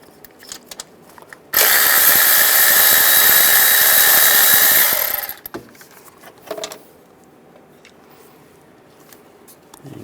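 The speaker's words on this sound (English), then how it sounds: "Now we're going to take the two bolts off." A power tool, likely an impact driver or drill with a 10mm socket, spins out a thermostat housing bolt on a 1998-2010 VW Beetle, one loud steady burst of about three seconds, with quiet handling noises before and after.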